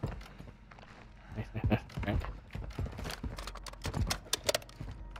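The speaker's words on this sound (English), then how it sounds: "I hear footsteps" Video game footsteps tap in quick irregular bursts, mixed with gunfire-like cracks and clatter during a shooter match, with speech nearby.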